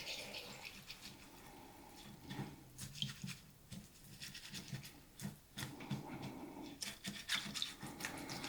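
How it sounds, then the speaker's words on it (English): Chicken and rice casserole ingredients being stirred in a dish, with irregular wet scraping and shuffling sounds, soft and close. "Okay, so I'm going to stir all of this up."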